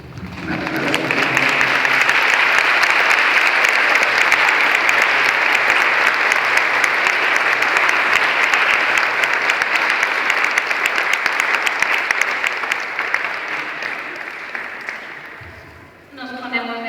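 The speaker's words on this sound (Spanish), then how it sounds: "Un aplauso." A congregation applauding a priest during Mass in church, a long, full, sustained round of clapping that rises quickly and holds steady before tapering off, followed by a voice speaking at the end.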